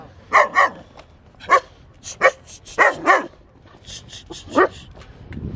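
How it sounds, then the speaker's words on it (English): Dogs on a hiking trail at Red Rock in Colorado bark loudly and close by in repeated short bursts, several barks in quick pairs and triplets over a few seconds. "Boy, got all the dogs."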